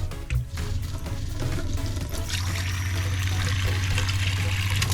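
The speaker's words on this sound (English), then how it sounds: "I've got running water in the galley here." Water runs from the galley tap of a MacGregor 26X boat into the sink. A steady rushing splash fills the space after a brief start, fairly close and continuous.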